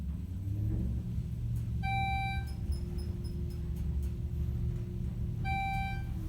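Schindler 400AE elevator car in a residential building runs with a low, steady motor rumble, while a few electronic beeps sound briefly over the hum.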